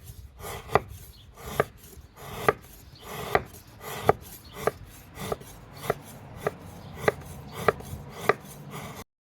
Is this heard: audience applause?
no